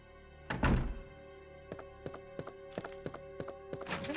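Opening a spade door in the Resident Evil video game: one heavy wooden thunk followed by a run of lighter, evenly spaced knocks and clicks, with no talking.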